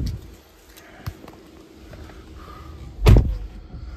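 Door of a 2021 Tesla Model 3 Long Range: a few soft clicks and light handling noises, then a firm, loud thud as the door shuts close by.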